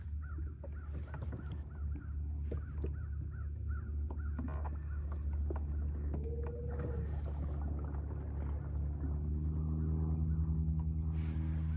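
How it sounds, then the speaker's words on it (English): A boat motor drones steadily as a fishing boat moves slowly through water, a low constant rumble with occasional bird calls in the background. "So we're moving the boat around."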